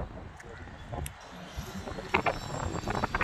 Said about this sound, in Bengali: দারুণ লাগে, প্রচুর হাওয়া দেয়।